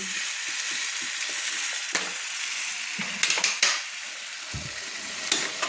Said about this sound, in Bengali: খসলা শাক আমার কষানো হয়ে গেছে এবার আমি দেখুন একটু জল অ্যাড করে দিলাম রান্না করার জন্য